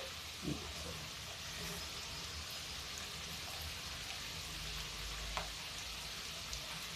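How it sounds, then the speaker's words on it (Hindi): Capsicum, potato and other leftover vegetables fry in a pan with a dense, even hiss like steady rain. The sizzle is constant and close, broken by one or two faint clinks, and no one speaks. "अब देखते हैं, इसको फ्राई कर लेते हैं।"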